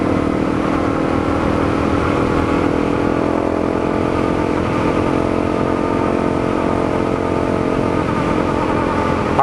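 A Honda CRF250L dual sport motorcycle cruises on back roads, its mid-pitched engine droning loud and steady with close wind rumble throughout.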